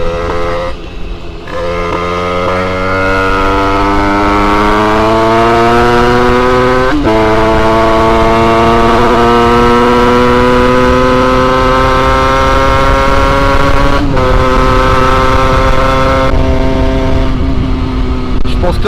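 Toyota GT86 engine under break-in driving, a steady loud harmonic drone at cruising speed that steps up in pitch twice with brief dips between, continuous and close throughout.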